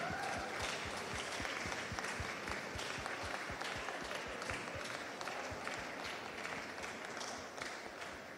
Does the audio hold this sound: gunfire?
no